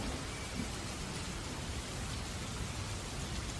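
Steady rain falls as a dense, even hiss that holds constant throughout, alone and with no voices.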